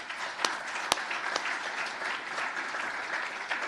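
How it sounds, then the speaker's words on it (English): An audience at a hall of fame induction ceremony gives sustained, even applause, with a few sharp individual claps standing out from the steady wash. "everyone needs to applaud Andy Johnson."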